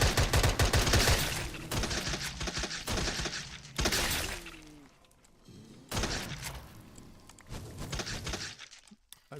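A gun fired in the Minecraft OritechCraft modpack lets off loud, rapid bursts of crackling gunfire, with several distinct volleys separated by short pauses.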